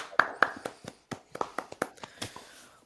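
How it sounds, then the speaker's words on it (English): Sharp hand claps land in an irregular run of about a dozen, close and fairly loud, with brief gaps between them and no other sound behind them. "Clap it up, clap it up."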